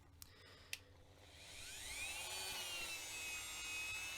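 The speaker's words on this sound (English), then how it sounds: "I just take my Dremel and take off this little metal edge that is actually holding on the wheel." A Dremel rotary tool grinds the metal edge off a Matchbox Rolls Royce Silver Shadow toy car axle, a rising, whining grind that builds and holds steady after two sharp clicks, close and alone.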